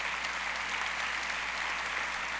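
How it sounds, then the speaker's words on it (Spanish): A church congregation at a service gives loud, steady applause that fills the whole stretch, dense clapping with no pauses and no voices on top. "Dale un aplauso fuerte a Dios."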